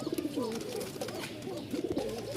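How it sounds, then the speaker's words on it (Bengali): Several fancy pigeons in a loft give low, rolling coos in quick rhythmic pulses, fairly close and moderately loud with no talk. "কবুতর অনেকগুলো আছে"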